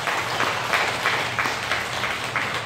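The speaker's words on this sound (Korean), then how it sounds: "위로의 박수 같이 한번 해주십시오." Church congregation applauding together after a thank-you to the pastor, teachers, children and choir at Jusarang Church, a steady wash of many hands clapping with light rhythmic swells, fairly close and filling the room.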